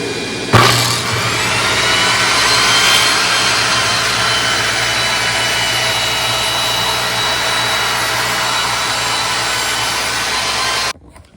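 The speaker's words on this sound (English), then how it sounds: "I'm going to run them through my crosscut sled to square both sides" A table saw pushes clamped boards through a crosscut sled to square both ends, starting with a sharp bite and then a loud, steady whine that holds for about ten seconds before cutting off abruptly.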